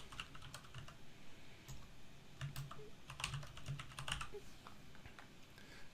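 Computer keyboard keys tapped in quick, uneven bursts of typing, close and moderately quiet, with no voices.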